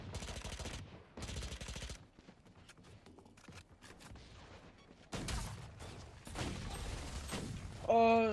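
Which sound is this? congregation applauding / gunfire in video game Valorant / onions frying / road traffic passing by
gunfire in video game Valorant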